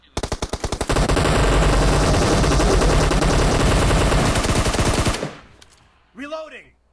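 Sustained rapid automatic gunfire rattles loudly and continuously for about five seconds during a video game shootout, then cuts off, followed by a brief voice.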